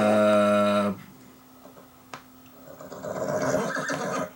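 A horse sound effect played from a CD: a horse neighs loudly in a long whinny, then a quieter stretch of snorting and shuffling with faint hoof movement.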